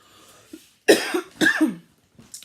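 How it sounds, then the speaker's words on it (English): A few sharp, harsh coughs in quick bursts, close and fairly loud, with short pauses and a fainter cough trailing at the end. "I'm going to go before I start having a coughing attack"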